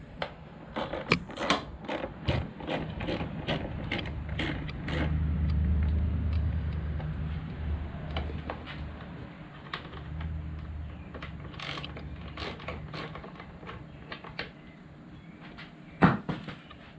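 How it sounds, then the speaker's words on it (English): A ratchet clicks in quick bursts while backing out the last fairing shroud bolts on a Honda Rebel 500 SE, with pauses, low motor rumble in the middle and a sharp knock near the end. "We're taking out the last bolt, last of the 4 bolts right now, and this shroud for this SE version should pop off."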